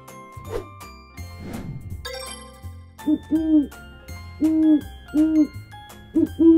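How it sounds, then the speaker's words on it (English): A wild owl hoots in a series of short, low, rounded calls, several paired hoots spaced through the second half, clear and close over soft music with chimes. "Owl."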